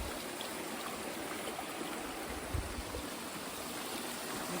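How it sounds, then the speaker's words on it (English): A Jamaican countryside river flows in a steady, soft rushing wash, faint and continuous, with a brief low bump midway. "We reach the river."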